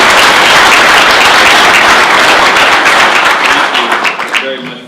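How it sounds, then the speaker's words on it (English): An audience gives a round of applause at a county economic development event, dense loud clapping that thins out and fades over the last second. "So if you don't mind a round of applause."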